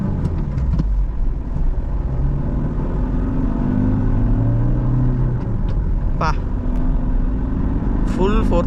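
A Honda City car engine drones and revs on a highway drive, a steady loud low rumble with rising pitch under continuous road noise, and someone speaks over it.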